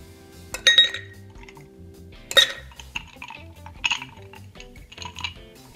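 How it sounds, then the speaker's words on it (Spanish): Ice cubes clatter into a glass while a rum caipirinha is being made, landing in about four separate bright, close clinking bursts spaced a second or two apart, with no talk. "agarramos nuestros hielos"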